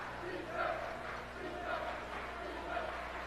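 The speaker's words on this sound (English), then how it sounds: "Great crowd for the early session." A crowd at a high school girls' basketball state quarterfinal fills the gym with steady, echoing chatter and cheering, a dense constant murmur with mild swells.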